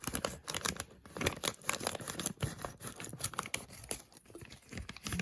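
A bag of flour for steamed buns being cut open, with close, faint crinkling, rustling and tearing of the bag material in irregular bursts and no talk.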